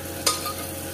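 Onions softening in a pan with a little salt for a quick raw-potato sabzi, giving a steady low sizzle with one brief scrape of stirring near the start, close and fairly quiet with no talking.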